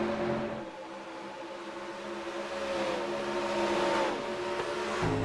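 A race car engine in a racing video game revs continuously, its steady whine climbing and falling in pitch with a brief tire squeal near the end, loud and unbroken throughout.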